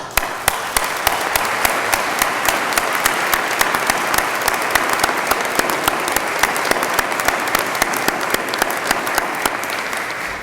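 A large audience claps steadily and continuously at a state police graduation ceremony, a dense wash of applause with individual claps standing out.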